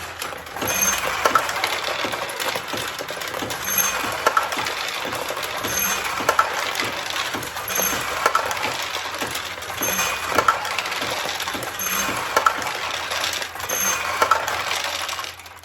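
Steel balls are launched one after another through a 1973 Nishijin Model A Recycler vintage pachinko machine, a continuous metallic rattle and clatter with regular sharper clicks of the firing mechanism repeating about every two seconds.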